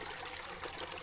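Spring water trickles out of rocks in a Pennsylvania state forest, a faint, steady, close burble with no voices over it.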